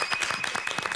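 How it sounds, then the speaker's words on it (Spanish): Studio audience applause on a Peruvian celebrity cooking competition show, a steady patter of many hands clapping at moderate level for one second, with no voices over it. "Por favor, un aplauso para Don Gabriel."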